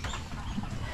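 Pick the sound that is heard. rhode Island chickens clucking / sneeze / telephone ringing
rhode Island chickens clucking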